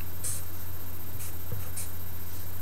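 Hand writing an algebra equation, with a few short scratchy pen or marker strokes spaced apart over a steady background hum, no talking.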